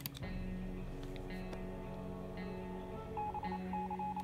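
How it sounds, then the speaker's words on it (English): Short electronic beeps sound in patterned bursts over a dense background of game music and noise, like coded signal tones, Morse code in the video game 60 Seconds! Reatomized. "is that Morse code I hear?"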